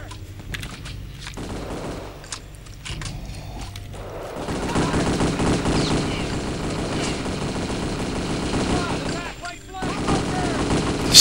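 Dense video-game gunfire, with volleys and rapid bursts building into a loud, continuous fusillade and the odd louder crack.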